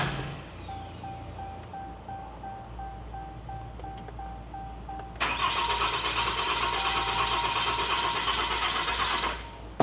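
A freshly built Cummins 6.7L diesel engine cranks steadily with a whirring starter over a low drone, then its noise rises sharply and holds a loud, dense roar for several seconds before cutting off.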